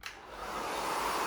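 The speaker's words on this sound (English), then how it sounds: "take your blow dryer," A hair dryer blows steadily, a continuous broadband whoosh that swells slightly at the start and then holds even, close and fairly loud.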